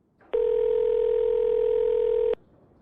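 Telephone dial tone in a spoken story as a man calls a friend from a coffee shop: one steady, loud, unbroken tone of about two seconds that starts and stops abruptly, with no talk over it.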